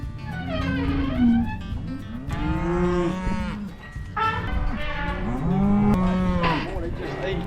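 Cattle on a ranch moo loudly and repeatedly, several long overlapping calls from cows and calves near and far, with no talking.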